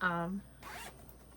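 A zipper on a fabric cross stitch project bag with a mustard colored double zipper is pulled once in a short, quiet rasp, right after a brief bit of speech.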